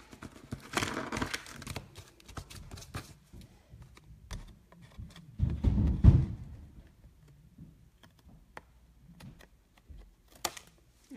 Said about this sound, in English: So I'm going to cut that back just with scissors.